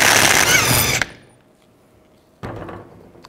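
A power tool with a 34 millimeter socket spins off a nut from the pitman arm of a 1999-2007 Chevy Silverado 2500, giving a loud close whirring burst, a quiet pause, then a second shorter burst.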